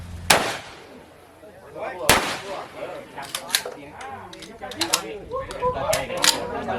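Live-ammunition firearms fired during a village security volunteer training day in Wiang Sa district. Two sharp, loud shots ring out early, followed by lighter clicks and clatter under excited nearby voices.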